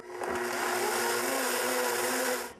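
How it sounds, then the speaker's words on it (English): A blender whirs at high speed, blending almond milk for a raw corn chowder, a loud, steady whine from start to finish before cutting off, with no voices. "if the blender runs too long, then you heat up the almond milk"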